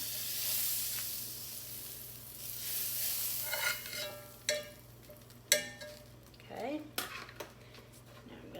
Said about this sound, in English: Get this butter down in there so it can be melting.